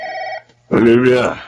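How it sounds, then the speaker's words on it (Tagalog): A telephone rings late at night in a Filipino drama scene: a steady electronic ring, a short gap, then a louder, buzzy ring with a voice speaking briefly before it. "Sagutin mo ang telepono."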